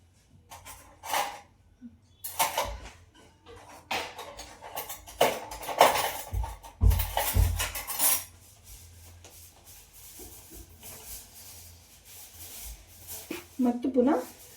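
A spoon scrapes and stirs plum cake batter in a bowl, with uneven bursts of rubbing and clinking broken by pauses and a voice talking.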